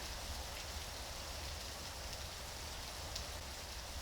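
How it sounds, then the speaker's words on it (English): Rain streaming off the glass walls of a heated home in the late evening, a steady, even hiss of falling water that carries on throughout with no voices. "watching the rain roll off of it, all from the safety and comfort of a heated home"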